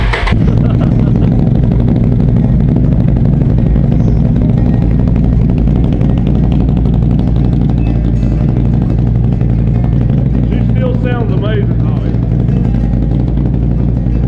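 A motorcycle engine, freshly cranked after an oil change, runs at a steady idle, close and loud, with an even low drone throughout and a brief higher chirp partway through.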